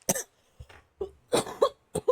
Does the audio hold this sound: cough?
yes